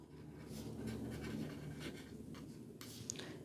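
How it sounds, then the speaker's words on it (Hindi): Quiet, close scratching of writing as a math statement about complex numbers is written out, a soft continuous stroke sound with a few brief pauses and no speech. "स्टेटमेंट लिखता हूँ"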